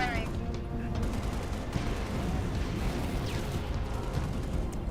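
Halo: Reach gunfire amid a dense, continuous din of battle effects, with shots blending into a steady roar rather than standing apart.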